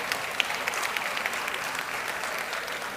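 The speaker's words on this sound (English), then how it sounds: "Another round of applause for them." Steady crowd applause at an official opening event in South Africa, following a youth music group's performance, a dense, even wash of clapping with no voices on top.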